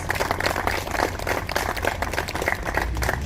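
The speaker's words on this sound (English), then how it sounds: "I think Stacey needs a round of applause." A crowd at a community celebration for a mural in Belfast claps in a round of applause, steady and moderately loud throughout, with a low hum of room noise beneath.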